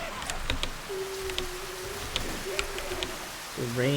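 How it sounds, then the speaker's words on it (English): Rain falls steadily in the video game Left 4 Dead 2 as a constant broadband hiss with scattered sharp taps. A low drawn-out tone runs through the middle and a voice-like sound enters at the very end. "The rain is too much."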